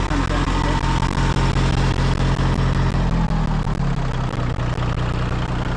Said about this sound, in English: I don't know how loud the tractor is